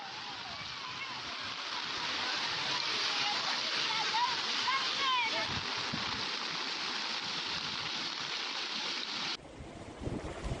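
Floodwater from Cyclone Michaung pours through a flooded housing society compound in Chennai, a loud continuous rushing roar with wind noise on the microphone, unbroken for the whole span and shifting abruptly near the end.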